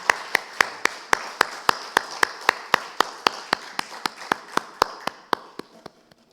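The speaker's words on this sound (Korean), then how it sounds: "하나님께 영광의 박수 올려드립시다." A church congregation claps in steady unison, about two dozen sharp, evenly spaced claps in a quick rhythm, fairly loud and close, thinning and fading over the last few beats.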